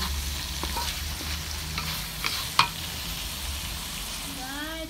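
Fried tofu with minced pork and black beans being stir-fried in a pan: a continuous close sizzle broken by spatula scrapes and a sharp metallic clack, with no speech.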